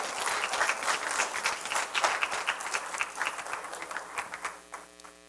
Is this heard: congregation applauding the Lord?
yes